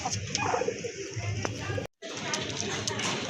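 Rajgolla pigeons, a pair of glossy light-coloured birds at a pigeon sale, give soft low cooing against a busy background with some voices, broken by a brief gap of silence.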